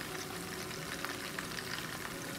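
Chicken pieces frying in oil sizzle and crackle in a steady, busy hiss, close and continuous, with tiny pops scattered throughout.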